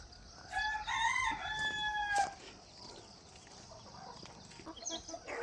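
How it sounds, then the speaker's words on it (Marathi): A rooster crows once, close and clear, amid village chickens at their shed, followed by softer scattered clucks and faint rustling. "कोंबड्यांना आता बाहेर सोडायचं आहे."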